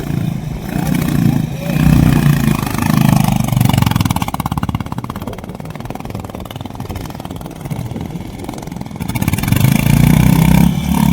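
A Honda Highness CB 350 motorcycle labours up a rough, broken mountain road toward Sanglaphu at 16,670 ft in snowy North Sikkim, its engine droning low and steady, rising and easing as it climbs.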